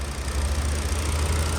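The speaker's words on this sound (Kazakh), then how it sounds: "Мінекей енді мотор бұл" A Chinese-built Hyundai Elantra engine idling with the hood open, a loud, steady low hum close by with no talk.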